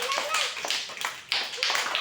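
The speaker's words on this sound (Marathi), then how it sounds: "जोरात टाळ्या वाजवायच्या" Children clap their hands loudly during a game, a string of sharp, bright claps repeating in uneven bursts, close by and fairly loud, with some voices mixed in.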